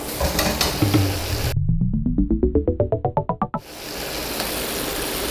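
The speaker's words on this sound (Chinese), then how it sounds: "这青豆呢，一定要给它爆一下" Green beans stir-fry in a hot wok with rapeseed oil, lard, ginger, garlic and scallion, giving a dense, close sizzle. A sequence of rising pitched tones briefly replaces it midway before the frying hiss resumes.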